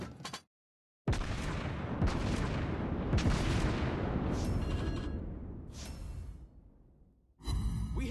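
Warship artillery fire in the naval combat game World of Warships Blitz, played with the cruiser Helena. A sudden loud boom opens into a long roaring, rumbling wash that slowly fades, followed by another sharp blast at the end.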